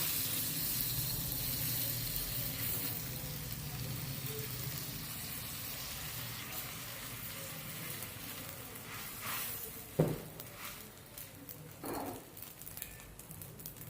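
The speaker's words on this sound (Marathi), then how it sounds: "आपण आता एक पाव भाजून घेऊया" Pav bread toasts on a hot pan for street-style masala pav, a faint, steady sizzle with a few soft clicks and scrapes near the end.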